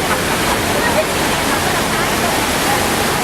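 Rushing water effect on the Universal Studios Hollywood Earthquake ride, a loud, steady, broadband roar of cascading water that fills the whole stretch without pause.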